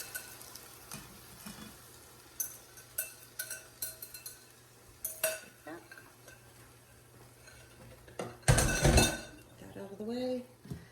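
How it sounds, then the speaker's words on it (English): Egg mixture hits a hot pan of softening vegetables with sizzling and frying, stirring scrapes and clinks of utensils against the pan, a few sharp clatters and a louder burst near the end; faint speech is present. "I'm going to go ahead and add the egg mixture. Push right into the pan."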